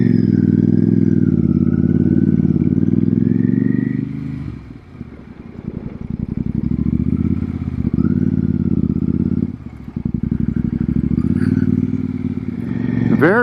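Royal Enfield Super Meteor cruiser with a belt drive ridden through town, its engine droning loud and steady with dips as the rider shifts and eases off, rising again under acceleration.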